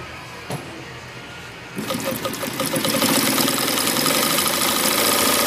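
A sewing machine running a small zigzag stitch starts up after a quiet moment and then whirs along in a fast, steady mechanical rattle, close and fairly loud.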